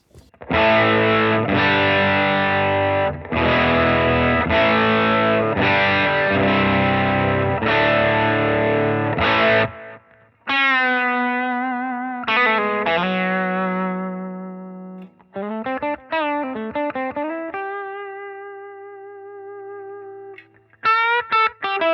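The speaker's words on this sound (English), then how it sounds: "this is a setting on the Rivera that's sort of a mid-crunch setting, and I'm listening to it again through these TONEX cabs" An electric guitar runs through a Rivera amp on a mid-crunch setting into TONEX cabinets. A loud, distorted strummed riff is followed by sustained ringing notes, bends and short picked phrases, with no voices.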